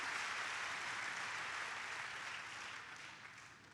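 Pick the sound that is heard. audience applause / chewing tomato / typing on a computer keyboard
audience applause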